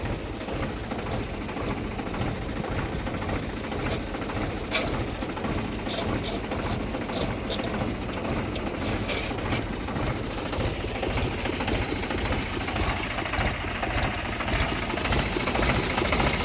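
A Mahindra tractor engine runs with a steady mechanical rumble throughout, with a rapid rattling texture and occasional clicks, loud and close, with no talking.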